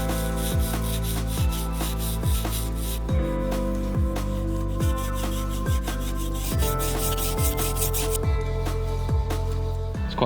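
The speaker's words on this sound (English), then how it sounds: "we're just going to work down slowly so we've got a really smooth grind and a sharp edge on the blade" A knife blade bevel being ground on a fine abrasive, a steady close rasping grind with a repeating rhythmic rub about twice per second, continuous and fairly loud with no talking.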